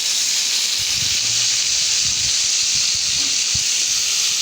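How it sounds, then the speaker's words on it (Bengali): Shrimp frying in hot oil for a pointed gourd and prawn curry, giving a loud, continuous sizzling hiss with a few soft clinks from the pan and no speech. "এবার চিংড়ি মাছগুলো এর মধ্যে দিয়ে দেবো। দেখো, সব চিংড়ি মাছগুলো এর মধ্যে দিয়ে দিলাম।"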